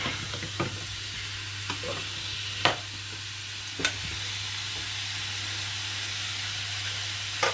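Salmon sizzles steadily in a frying pan beside baby potatoes, a constant loud hiss with occasional soft pops and clinks.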